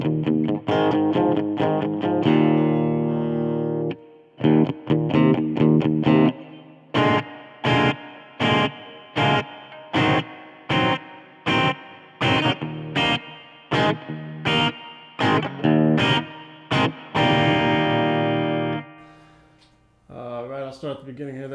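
Electric guitar through a Roland Micro Cube amp on its AC30 model, chords strummed then a run of short, choppy stabs separated by gaps, with ringing overdrive and a final sustained chord.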